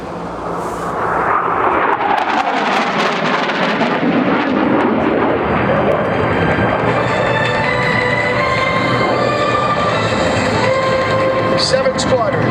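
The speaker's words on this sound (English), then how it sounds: "Ladies and gentlemen, Captain Chris Brandt and the Marine Corps Harrier." A Marine Corps Harrier jet flies at the 2012 Duluth Airshow with a loud, sustained roar that swells and hangs in the air, while an announcer talks over the noise.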